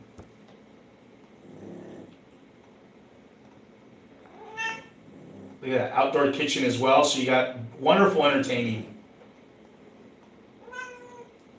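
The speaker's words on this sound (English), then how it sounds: "if you can hear that little cat" A cat meows a few times, short high calls at a moderate distance, while a person talks over part of it.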